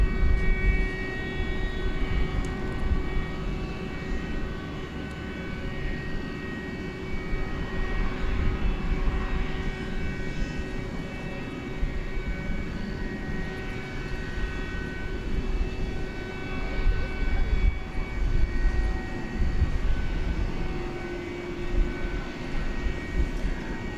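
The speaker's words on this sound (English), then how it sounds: "Here's an A300 being backed out." A UPS Airbus A300 being pushed back at DFW airport at night, its engines and ground equipment producing a constant loud droning hum with steady tonal whine, heard from a distance with no talk.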